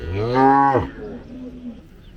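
A cow at a native cattle market in Palayakottai gives one loud, close moo that falls off, followed by faint market background.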